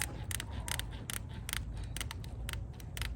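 Scissors made for hard materials snip through thin metal while building a compost bin, giving a rapid series of sharp, close cutting clicks at an irregular rhythm.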